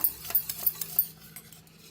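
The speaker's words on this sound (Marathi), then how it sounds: "दही असं चांगलं मिक्स करून घ्यायचं" A spoon stirring yogurt in a bowl, a quick series of light rhythmic clinks and scrapes that fade into a softer scraping at the end.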